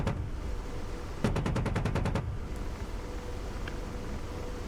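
AH-64 Apache 30 mm cannon in DCS firing one rapid burst of about ten evenly spaced thumping rounds, fairly loud against a steady helicopter rotor drone, followed by faint distant impacts.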